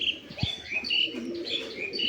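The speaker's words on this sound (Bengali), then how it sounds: "এই ট্রেতে চলে আসছে গোসল করার জন্য" Pigeons cooing and chirping close by as they come to bathe in a water tray, soft repeated calls with a light thump, no talking.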